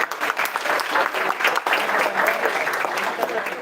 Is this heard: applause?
yes